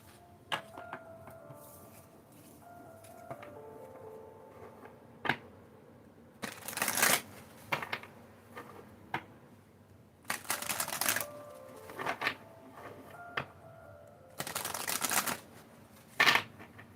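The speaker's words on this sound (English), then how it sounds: "I love how smooth this deck shuffles." Crisp bursts of a deck of cards being shuffled, three loud riffling flurries with lighter card snaps and handling noises in between, close by.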